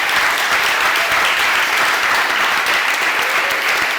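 An audience at a live business talk on ecommerce applauds: steady, full crowd clapping, loud and continuous throughout, with no voices over it.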